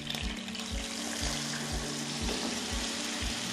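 Paste hits frying chicken in a pan while cooking biryani and sets off a bright, hissing sizzle. The sizzle runs steadily under a regular series of low thumps, close and fairly quiet.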